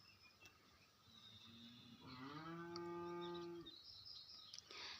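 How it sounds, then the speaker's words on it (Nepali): A cow moos once, a long, drawn-out low call lasting about two seconds, fairly close by in a quiet garden setting, with faint bird chirps around it. "गाई पनि पानी माग्दैछ"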